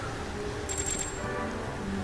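Coin pickup in a video game: a quick run of four or five bright, ringing chimes, loud and close, over busy background game music.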